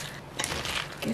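Cabbage kimchi mixed by hand with chopped chives and seasoning in a small bowl, giving close, wet squishing and crunching sounds in a continuous, uneven rhythm.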